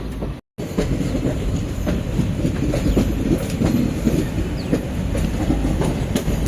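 Velankanni–Mayiladuthurai passenger train pulling out of a station onto a curve, its wheels clattering rhythmically on the rails with faint squeals, loud and close, after a brief dropout at the start.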